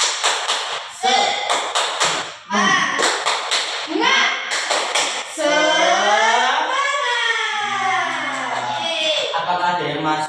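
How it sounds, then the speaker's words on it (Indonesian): Fifth-grade schoolchildren in an Indonesian classroom perform a rhythmic clapping chant, bursts of claps alternating with sung words, then a teacher and children talk and sing without clapping. "kita tepuk semangat terlebih dahulu lagi"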